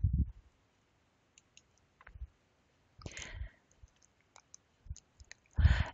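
A computer mouse gives a few faint, sparse clicks in an otherwise quiet room, with a couple of soft bumps and rustles between them.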